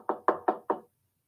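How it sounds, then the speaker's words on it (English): A bare hand knocks on a door four times in an even, quick rhythm, each rap crisp and close, followed by silence. "like the sound of a hand knocking on a door"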